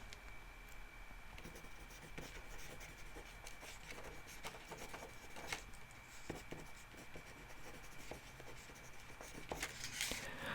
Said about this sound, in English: I'm making a note on my paper here so I don't forget to include all that information